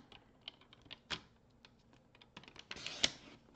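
Paper cutter blade slicing a stack of paper card mats, heard as faint, close clicks and taps that build to a sharper snap near the end, with no voices.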